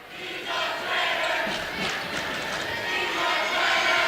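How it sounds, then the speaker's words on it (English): Crowd at a high school basketball game, Brownsville at Uniontown, jeers a player with a swelling, unified chant of voices that rises and holds loud in the gym. "Hear the crowd. They calling him a traitor?"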